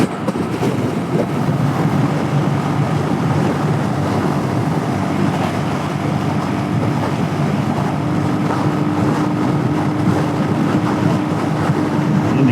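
A Royal Enfield Hunter 350 motorcycle runs at speed during a Texas road trip, its engine a continuous droning rumble blended with heavy wind rush, loud and unbroken throughout, with no voices.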